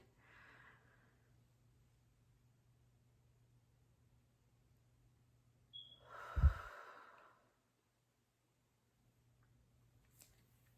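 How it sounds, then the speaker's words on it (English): One deep, slow breath during a breathing exercise sounds close and soft: a faint inhale near the start, then a louder, audible exhale a few seconds later, with quiet low hum in between. "What we're going to do is take 10 seconds and just breathe."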